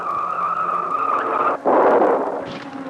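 A Mini race car spins on the first lap of a British Touring Car race. Its tires squeal loudly and steadily, there is a brief break, and then a rough scrubbing skid follows as the engine drones along with it.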